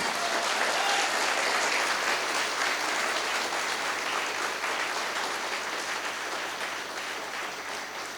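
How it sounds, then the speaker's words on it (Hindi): A loud, sustained round of applause from an audience at a product presentation, thick continuous clapping that holds steady for several seconds and fades only slightly near the end, with no speech over it. "तो फियोना के लिए एक जोरदार ताली होना चाहिए ना।"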